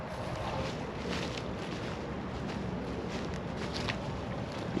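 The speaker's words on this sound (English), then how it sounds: "It's windy, but at least it's not brutally cold wind." Wind blowing across a large lake, a steady broad rush and buffeting against the microphone, fairly quiet and continuous with no voices.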